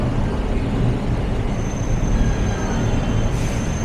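Continuous busy traffic on Taft Avenue, Manila, rumbles nearby, vehicles passing steadily, with a faint high whine from an LRT light rail train near Vito Cruz Station in the mix.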